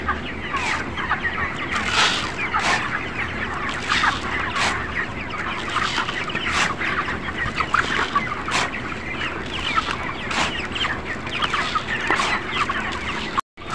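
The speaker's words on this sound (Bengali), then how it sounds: "কারণ মুরগিগুলো খুবই ক্ষুধার্ত।" Hungry broiler chickens on a poultry farm cluck at feeding time, a dense, steady chorus of overlapping calls with sharp squawks breaking through and no talk.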